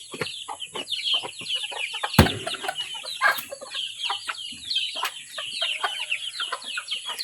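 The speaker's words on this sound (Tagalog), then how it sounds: "Daghan ka pa nilang manok ni Helen, guys." A flock of chickens clucks and squawks in a farmyard, with many close, overlapping calls and a sharp thump partway through.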